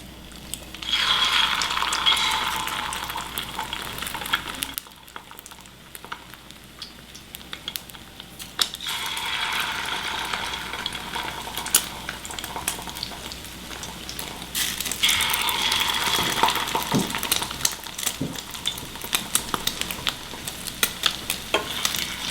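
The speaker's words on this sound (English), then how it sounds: "we're gonna fry these about 45 seconds, maybe a minute at the most" Chicken crackles and sizzles in hot oil, a steady frying hiss that swells into louder bursts between quieter stretches.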